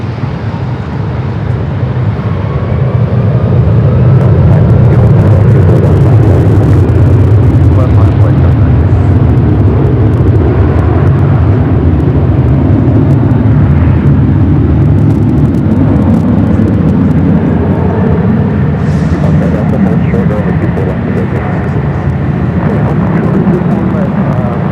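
A Boeing 777 cargo freighter taking off on runway 25 right at LAX, a loud continuous low jet roar that holds steady throughout, with a person talking over it.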